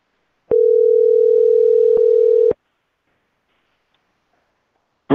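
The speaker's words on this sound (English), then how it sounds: "You're gonna hear like a phone ringing." A telephone rings once with a steady, loud electronic tone lasting about two seconds, followed by silence and a click at the end.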